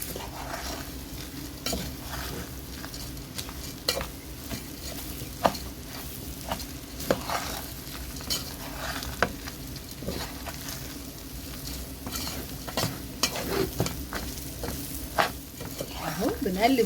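Spoon stirring dry whole spices and ground spices together in a pot for a mandi dish, a steady scraping and rustling with faint sizzling, continuous and close, with scattered clinks against the pot and no talk.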